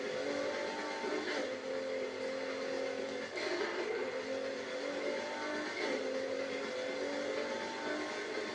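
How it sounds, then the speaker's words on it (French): A Honda Civic with VTEC accelerating in Need for Speed Heat, a steady high engine whine rising through the revs with brief dips at gear shifts, loud and continuous without speech. "Allez la Civic. Accélère la Honda."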